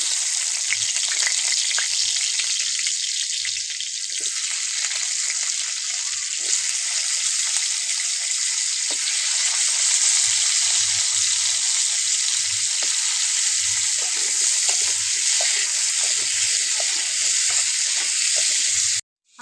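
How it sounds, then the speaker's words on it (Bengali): Potato pieces fry in hot oil with a continuous loud sizzle for nearly twenty seconds and occasional soft bubbling pops, cutting off abruptly at the end, with no voices. "এই তেলের ভেতরে দিয়ে দেবো আলুটা"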